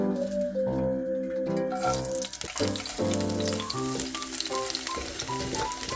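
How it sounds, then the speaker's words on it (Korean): Bean sprouts stir-fry in a generous amount of perilla oil, crackling and sizzling loudly up close, with bursts of stirring and scraping against the pan over music in the background. "들기름을 좀 많이 넣어 가지고 볶아줄 겁니다"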